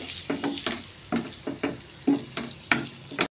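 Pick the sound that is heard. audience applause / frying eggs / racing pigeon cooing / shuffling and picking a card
frying eggs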